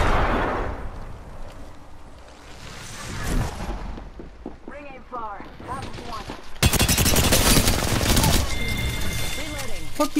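Rapid gunfire bursts from a shooter video game, with dense shooting growing louder and sustained toward the end, mixed with in-game radio chatter and voices talking.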